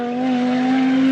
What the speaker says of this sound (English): This is just a video that I screen recorded of a Audi Quattro, this car in action.